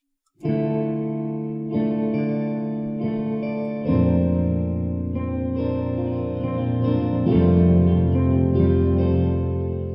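Sustained synth chords ring out with a soft reverb wash, each new chord swelling in and its tail lingering into the next.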